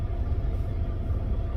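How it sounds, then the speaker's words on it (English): A flatbed truck's engine idles in a steady, close, low rumble that holds even and unbroken throughout, with no other sounds. "I've been sitting here idling for about 20 minutes."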